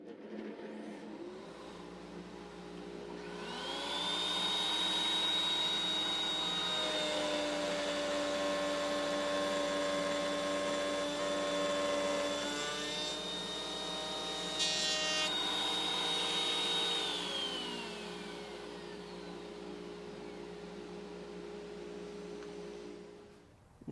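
Router table cutting sliding dovetails in wood on a Woodpeckers joinery sled: the router's steady high whine spins up, drops in pitch as it bites through each pass, then recovers, running loud and close with no talk.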